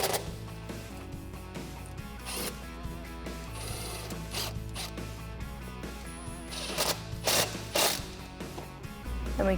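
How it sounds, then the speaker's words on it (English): An 8mm socket ratchet tightening a throttle body clamp on a 2016-2020 Tacoma 3.5L V6 intake: intermittent ratchet clicks and metallic handling sounds, with a few sharper bursts near the end, and no voices. "Using an 8mm socket, we can start to tighten that up."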